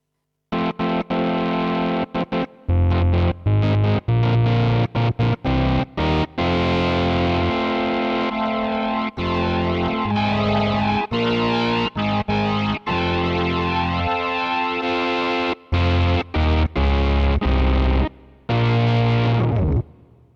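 A distorted Hammond XB-1 organ plays sustained chords and short stabs with its Leslie speaker switched off, a dry, static tone lacking any swirling rotary movement.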